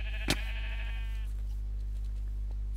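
A sheep from the video game Minecraft gives a single wavering bleat after a sharp click, over a constant low background hum during a Survival Games match.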